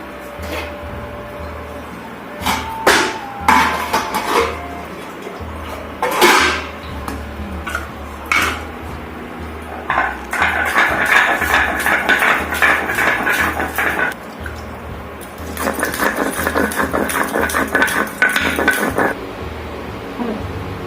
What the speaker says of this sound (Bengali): এগুলো আমি বেটে নিচ্ছি